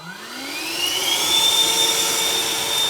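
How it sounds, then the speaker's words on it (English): A Bosch shop vacuum spins up and runs with a steady, loud whirring roar, its pitch rising at first and then holding. "this is my beloved Bosch vacuum"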